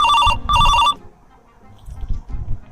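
A phone rings loudly in two close electronic bursts, then stops, leaving quieter background murmurs and faint movement.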